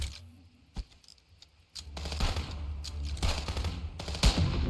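Gunfire in the Contraband Police video game, a sniper engagement heard as a few sharp isolated shots followed by a dense, loud stretch of rapid firing and a final heavy crack.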